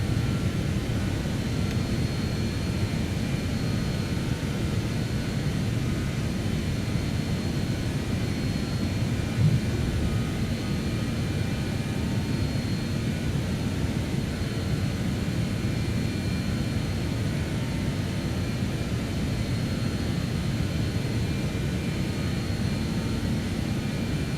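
Steady jet engine roar of a BAe 146 during takeoff in Microsoft Flight Simulator, a constant, even drone with low rumble and no pauses.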